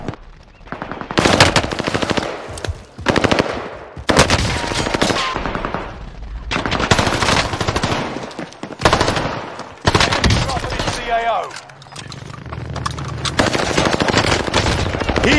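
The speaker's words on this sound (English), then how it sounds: "Why are you shooting my body, bro?" Rapid automatic gunfire in the battle-royale game Call of Duty: Warzone, on Rebirth Island, rattles loudly in repeated close bursts with short gaps throughout.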